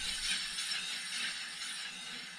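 A Renault Twingo 2 handbrake, adjusted a little too tight, gives off a continuous close ratcheting, clicking mechanical noise that is steady and fairly loud throughout, with no voices.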